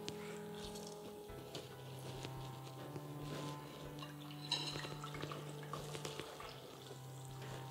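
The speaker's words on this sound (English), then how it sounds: "We need to take a wee pile and squeeze as much of that water out as we can" Cooked spinach squeezed by hand lets water trickle and drip in faint, irregular splashes, quiet and close against a low background hum.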